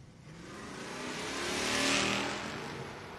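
Drag racing car, the Northrop Camaro, launching at a door wars drag race, a loud engine roar swelling to a peak and then holding under crowd-level noise, with faint commentary absent.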